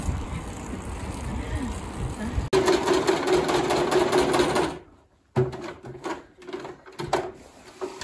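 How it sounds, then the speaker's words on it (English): A sewing machine stitches leather onto welding clothes, its fast, whirring mechanical run starting and stopping in bursts with a brief pause, heard close and fairly loud. "Are you putting leather stitches on Robin's? On Robin's welding clothes."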